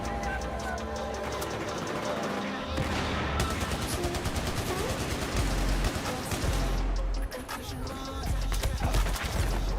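Gunfire in Battlefield 1 rattles in dense, sustained bursts, with background music running under it and a voice talking briefly partway through.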